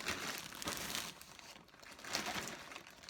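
Plastic packaging being opened by hand gives close, quiet crinkling and crackling in two short bursts separated by a brief lull.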